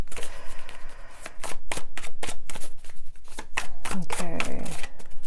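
A large oracle card deck of about a hundred cards being shuffled, loud rapid rhythmic riffling and slapping, repeated in bursts with someone talking at moments.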